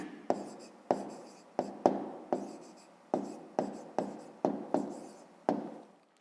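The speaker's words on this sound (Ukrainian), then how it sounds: "Записуємо тоді відповідь, пишемо відповідь." Pen or pencil writing an answer by hand, close and quiet, as about ten short scratchy strokes in an uneven rhythm with brief gaps between them.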